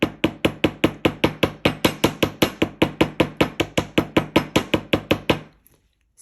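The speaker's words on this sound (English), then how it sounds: "we're going to add a little bit of texture by using the round part of our hammer" A wire-wrapped ring is struck repeatedly with the round face of a hammer, about two dozen sharp, evenly spaced metallic taps in a steady rhythm, close and loud, ending abruptly in silence.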